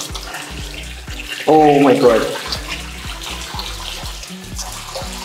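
Water runs strongly from a bathroom tap in a house, a loud, steady rush that starts suddenly and continues while a person speaks briefly.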